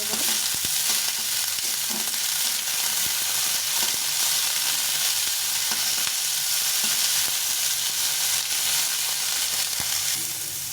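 Shredded cabbage fries in a hot pan for a fast-food-style fried rice, giving a loud, continuous sizzle with occasional stirring scrapes, close and unbroken throughout.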